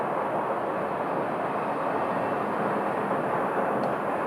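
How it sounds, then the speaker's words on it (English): An Air National Guard refueling aircraft takes off from Phoenix Sky Harbor Airport, its engines a broad, steady roar heard from a distance, unchanging in loudness throughout. "They've been cleared for takeoff."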